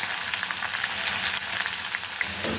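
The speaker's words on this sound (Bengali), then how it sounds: "অল্প অল্প করে দিয়ে এবার এটাকে ভাজতে হবে।" Thin slices of taro sizzle steadily in hot oil as chips fry in a pan, a dense, continuous crackle with bright spattering pops, close and alone without any talk.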